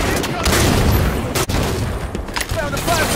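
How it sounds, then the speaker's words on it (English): Halo 5 multiplayer combat: a grenade blast amid dense, rapid gunfire, loud and continuous with overlapping booms and shots, with game voice callouts mixed in. "Throw a grenade!"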